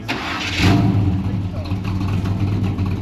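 A lumpy-cammed 327 V8 revs hard close by, a loud, rough, throaty burst that settles into a choppy, loping idle rumble.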